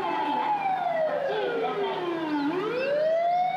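A puppy howls in imitation of an ambulance siren, a loud, continuous wailing tone that slides slowly down in pitch, dips, then rises again, close to the microphone.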